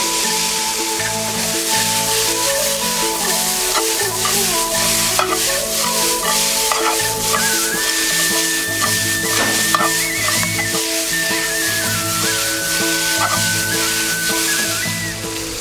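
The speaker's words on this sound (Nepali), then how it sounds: "स्लाइस गरेको क्यारोट अनि सिमी राख्छौ र यसलाई 2 मिनेटको लागि चलाउँदै पकाउँदै गर्छौ।" Sliced carrots and beans stir-fry for Nepali-style chow mein, with a loud continuous sizzle and frequent scraping and clattering of the utensil in the pan throughout.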